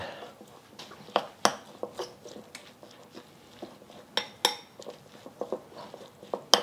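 Utensil scraping and clinking in a pan while oil and food are stirred for Chinese New Year dishes, with irregular close taps and clatters and a brief voice.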